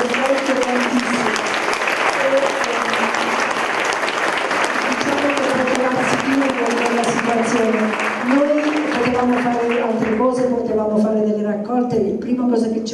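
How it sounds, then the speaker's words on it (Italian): Long, steady crowd applause at an outdoor village event in Pizzoferrato, dense clapping that carries for most of the clip while a speaker's voice runs over it and continues as the clapping thins toward the end. "io vorrei fare un grande applauso a quella popolazione"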